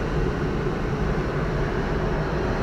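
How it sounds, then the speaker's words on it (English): A glider tug aircraft comes in to land on a gliding airfield, heard as a steady, dense broadband roar without distinct peaks, fairly loud and continuous throughout. "Aircraft just landing over there. Yeah, I think that was the tug."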